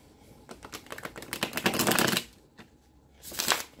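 A deck of tarot cards is shuffled in two quick riffling bursts, loud and close, with a brief pause between them and no talking.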